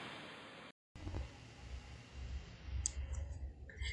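A computer mouse clicks during a software lab installation, a few light, close taps standing alone over a low steady room hum with no talking.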